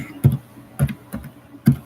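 Four separate keystrokes on a computer keyboard, spaced unevenly, each a close, fairly loud clack with quiet pauses between and no talking.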